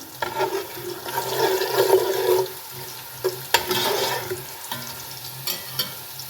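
Matar pulao (pea rice) is stirred and fried in a pan, with uneven bursts of sizzling and scraping that rise and fall close by and a few sharp clinks.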